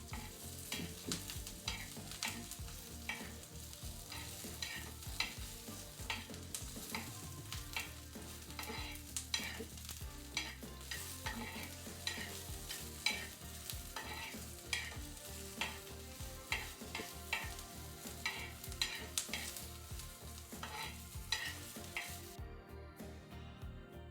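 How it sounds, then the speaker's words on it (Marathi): Bhakri flatbread roasting in oil on a pan, a continuous crackling sizzle punctuated by frequent scraping and tapping of a utensil against the pan, no voices. "वरतून असं तेल टाकायचं. मस्त असं भाजून घ्यायचं ह्याला."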